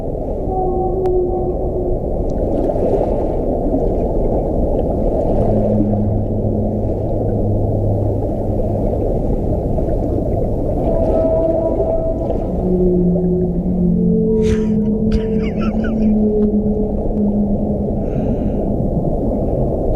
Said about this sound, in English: Just I need some whale sounds.